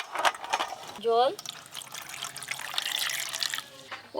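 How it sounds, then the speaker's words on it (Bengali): Water poured into a wok for boiling elephant foot yam, a short close splashing trickle in a kitchen, mixed with talking and other brief household sounds. "ওল সিদ্ধর জন্য কড়াই জল দিয়ে দেবো।"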